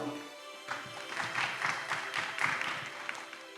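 Audience at a summit gives a round of applause, scattered clapping building to a moderate, fairly close burst that fades after a few seconds.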